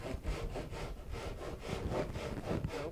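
A hand saw rasps steadily through waste wood on a steel-string acoustic guitar's side strut, with even back-and-forth strokes, close and alone.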